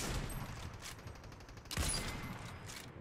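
A multi-shot grenade launcher fires in a video game, a dense rapid rattle of blasts running the whole time with a heavier boom midway, loud and close.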